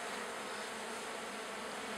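Honeybees buzz at an open hive in a dense, steady, close drone with no voices.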